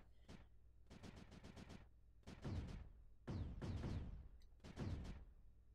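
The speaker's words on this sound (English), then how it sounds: "The cannon started working, and it has quite the range." Cannon fire in the strategy game Creeper World 4, sharp repeated bursts of rapid shots in clusters with short pauses between them, fairly loud and alone without talk.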